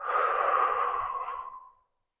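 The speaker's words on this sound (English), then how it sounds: "we're just going to take a couple deep breaths here" A deep exhaled breath during an upper-body and neck stretch, a long, soft, breathy sigh lasting under two seconds and then fading to silence.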